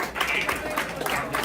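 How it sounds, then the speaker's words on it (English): Brief applause rises from an audience at a standup comedy show, a short burst of clapping lasting barely a second and a half, mixed with murmuring voices. "You guys want to give a round of applause for April?"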